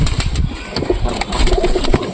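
Pigeons coo close by in a short burst of soft, throaty calls, with no talking.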